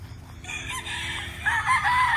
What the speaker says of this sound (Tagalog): yung mga manok ay nasa ilalim, nagpapalilim